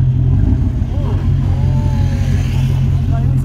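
Ford Galaxie V8 with straight-pipe exhaust rumbling loudly and steadily close by, a deep continuous engine note with slight revving, while people talk over it.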